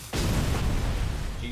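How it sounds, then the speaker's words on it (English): A grenade launcher fires in the RoboCop: Rogue City video game, a sudden loud boom followed by a deep rumbling blast that fills the short moment. "There's a grenade launcher."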